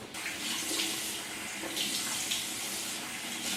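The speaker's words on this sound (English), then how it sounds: "next step is to rinse your face." Tap water runs steadily from a faucet into a sink while a face is rinsed, a continuous close hiss and splash holding even from start to finish with no voices.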